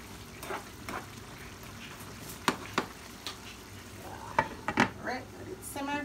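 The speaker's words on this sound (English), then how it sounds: "let it simmer" Jamaican curry chicken in gravy simmering in a pot, with a steady low sizzle and bubbling broken by a few sharp scrapes and clinks of stirring, close by and alone.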